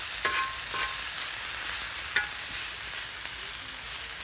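Thick bacon fries in a pan, a steady bright sizzle and crackle close up, with a few sharp pops and scraping touches scattered across it.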